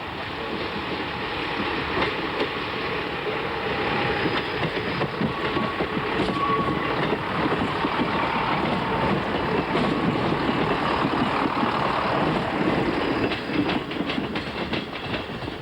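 Train running on rails through the Welsh border country, a continuous loud rumble with rattling wheels and steady clatter heard from on board, unbroken throughout.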